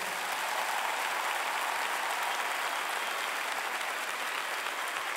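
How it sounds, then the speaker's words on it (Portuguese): Concert audience at the Altice Arena applauding, a loud, continuous wash of clapping lasting the whole five seconds, with no talk. "Portanto, um grande aplauso para o Alexandre."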